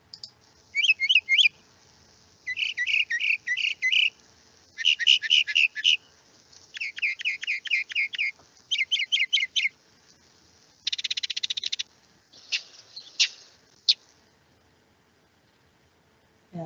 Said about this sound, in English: That is the sound of the northern mockingbird.